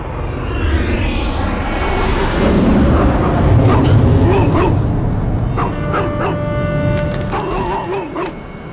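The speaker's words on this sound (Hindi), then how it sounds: "कोई इस कुत्ते को चुप कराओ।" A dog barks and yelps repeatedly in a wartime scene from a Russian action movie, the calls sharp and close over a dense, noisy rumbling background.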